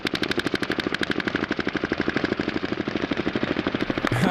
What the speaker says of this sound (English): they're just walking down the alley shooting at nothing